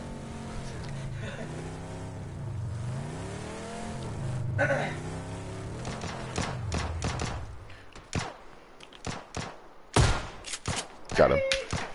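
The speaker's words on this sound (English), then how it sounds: "we are going to shoot this dude with a shotgun if he comes close" Shotgun blasts fired at an enemy in an online shooter, a few sharp loud reports in the second half following a stretch of talk over game engine and ambient noise.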